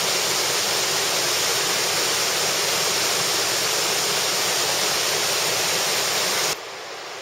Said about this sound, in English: We've come across a bridge now that has a great view of a waterfall